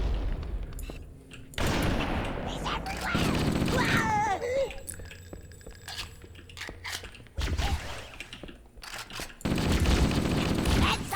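Gunfire in the Halo: Combat Evolved video game, several loud bursts of rapid automatic fire separated by quieter gaps with faint background game sounds.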